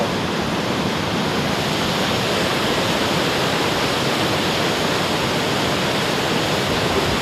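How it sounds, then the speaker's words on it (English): Steady, powerful roar of a big waterfall, dense broadband rushing water filling the whole clip without pause or variation. "Big waterfall!"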